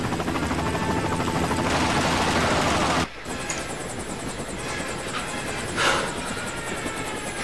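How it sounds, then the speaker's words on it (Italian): A helicopter in the Wii video game 007: Quantum of Solace drones continuously with a loud rotor hum that cuts off briefly and then resumes, and no voices are heard over it. "Oh, sentito. L'elicottero. Stanno portando via White"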